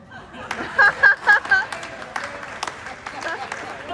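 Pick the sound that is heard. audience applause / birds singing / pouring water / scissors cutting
audience applause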